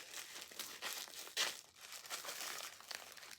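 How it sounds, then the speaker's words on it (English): Scissors cut through crinkly plastic packaging layers on a yarn advent calendar, giving quiet, irregular crackling and tearing bursts close by, with no voices. "I shouldn't put the scissors down because I know I'm going to have to cut this."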